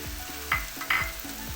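Onions with coriander powder sautéed in a pan, giving soft sizzling with a few rhythmic spoon scrapes and two brighter clinks against the pan, up close with no voices.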